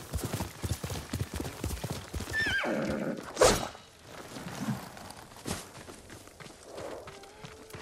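A horse whinnies sharply midway through the video game Ghost of Tsushima, surrounded by rapid hoofbeats and busy sound effects, with a loud burst near the middle.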